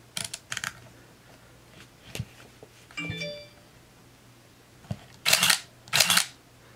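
A Nikon N8008s 35mm film SLR fires its shutter several times at different speeds: sharp, close mechanical clicks and whirs spaced across the stretch, ending in two louder, longer bursts, with a brief beeping tone partway through.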